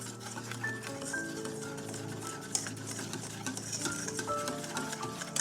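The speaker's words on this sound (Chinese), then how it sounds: "一直搅拌到看不到明显的粉粒为止" A whisk stirs flour into an egg yolk and milk mixture for mooncake filling, a steady soft scraping and tapping against the bowl with faint clinks, close and continuous.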